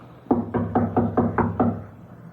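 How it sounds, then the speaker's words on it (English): Knocking on a door as a radio drama sound effect, a steady series of six firm, close raps in even rhythm, heard alone without talk. "Knock again."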